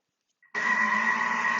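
Thermomix food processor running on its gentle dough-kneading setting, a steady close motor hum with a whine that starts abruptly after a brief click and continues evenly.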